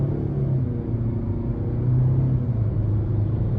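Steady low drone of a 2023 Nissan Altima 2.5 SR pulling under a little throttle, heard from inside the cabin as a continuous rumble that swells slightly midway, with no one speaking.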